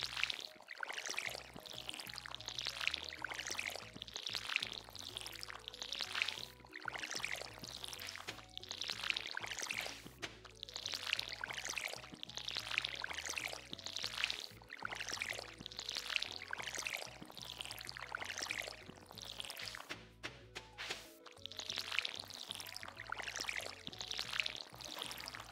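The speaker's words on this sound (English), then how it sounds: "Let's water our crops of tastiness." Crops in Stardew Valley are being watered, a continuous splashing pour of water with a fast, rhythmic patter running steadily for the whole stretch, with no talking.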